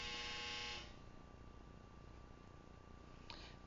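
A steady electronic buzzer drones loudly for under a second and cuts off, followed by low hiss and a faint short blip near the end.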